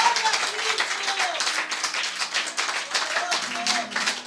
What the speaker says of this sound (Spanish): ¿Cuántos les dan un aplauso al Cristo de la gloria?